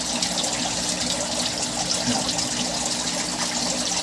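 Water being poured for acclimating berried crayfish to an aquarium, a continuous near splashing trickle that holds steady throughout with no talk.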